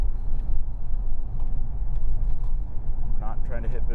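A Volvo V70R at low throttle gives a steady low engine drone and road rumble, continuous and moderately loud, with a person talking over it.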